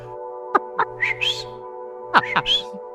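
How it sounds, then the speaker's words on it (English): Several short, sharp human whistles, some rising and swooping, heard in two quick bursts over a steady background hum. "The whistle."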